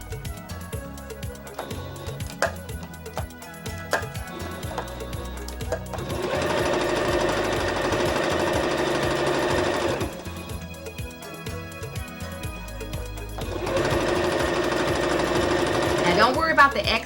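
A sewing machine stitches leggings fabric in a steady, rapid mechanical whir that runs in two longer bursts with quieter handling between them, while a person speaks over it.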